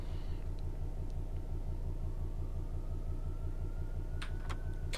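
A video game BR Class 66 diesel locomotive rumbles steadily at low pitch on the North London Line, continuous and even, with a faint rising whine and a few brief clicks near the end.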